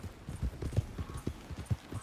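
Horse hooves clop in a quick, even gait on a dirt trail in the Red Dead Redemption 2 video game, a close rhythmic series of soft thuds with no whinny standing out and no voices.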